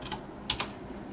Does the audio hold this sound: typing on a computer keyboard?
yes